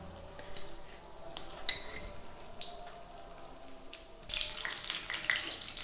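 Aloo gobi with egg spread over the top cooks gently on a low flame, giving a soft, steady frying sizzle close by, with brief clinks and a brighter burst of sizzling toward the end.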